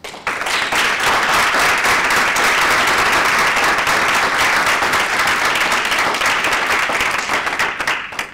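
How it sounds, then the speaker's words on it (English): Sustained audience applause at a workplace improvement report-out ceremony, a dense, steady wash of many hands clapping at full volume for about eight seconds before tapering at the end. "So can we give a warm round of applause and congratulations to Claire Smith and Craig Richardson."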